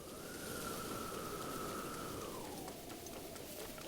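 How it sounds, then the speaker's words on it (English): Steady rainfall in the video game Breath of the Wild, a soft continuous hiss that stays even and fairly faint throughout, with a thin sustained tone running beneath it and no voices. "Please stop raining."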